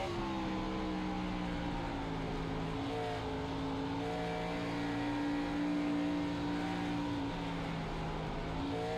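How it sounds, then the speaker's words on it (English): A race car engine in a racing video game blips its throttle while bouncing over bumps on the Rockingham oval, with sustained engine tones rising and falling in pitch at moderate loudness throughout. "Hear him playing with the throttle, the car bouncing around on those bumps at the bottom."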